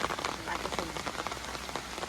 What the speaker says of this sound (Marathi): यो बघा मस्तच मोठा पाऊस आलाय जोरात